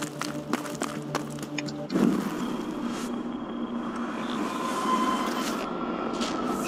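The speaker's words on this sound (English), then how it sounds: "Trying to put that train" A train rolling on rails in the Life Is Strange video game, a steady rumble and rattle that swells after a sharp onset and holds on under a faint game ambience.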